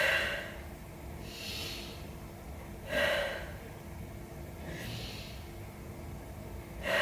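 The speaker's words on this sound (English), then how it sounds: "Let's take 3 breaths." Slow, deep breaths during a yoga class, a few audible inhales and exhales spaced several seconds apart, soft and close over a quiet room.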